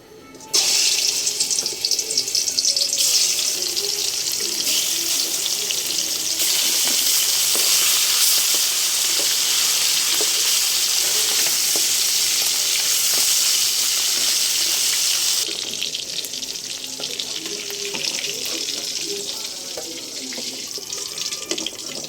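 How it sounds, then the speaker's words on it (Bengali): Steady, bright hiss of hilsa fish frying in hot oil in a wok, continuous and fairly loud throughout, with faint clinks now and then and no talking. "এখন আমি মাছটা হালকা করে ভেজে নেব"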